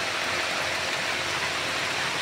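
Heavy rain falling after a hot day, a steady, loud, unbroken hiss of downpour filling the whole moment with no voices.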